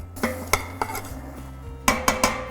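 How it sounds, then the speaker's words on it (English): Chilies and onions stirred in a pan for shakshuka, with a run of distinct metallic scrapes and taps of a utensil against the pan, close and crisp, over a faint background sizzle. "Now it's time to add some chilies. So chilies are in, give it a stir."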